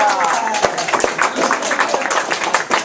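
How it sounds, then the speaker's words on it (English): A room of students at a university debate class gives a round of applause, dense clapping that holds steady for about three seconds, with voices mixed into the noise. "Let's give her a round of applause."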